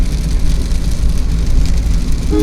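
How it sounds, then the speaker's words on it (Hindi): Heavy monsoon rain pounds on a car roof and windshield while driving, a dense, steady drumming close around the cabin with road rumble underneath. "बारिश हो रही झमाझम"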